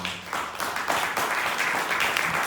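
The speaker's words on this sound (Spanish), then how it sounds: "¿Por qué no le das un aplauso bien fuerte al Señor?" Church congregation clapping in applause, a brief, busy spatter of many hands that stays steady for a couple of seconds.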